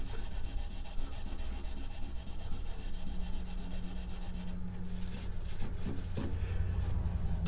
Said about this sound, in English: that little bit of sanding that I did right there just has really helped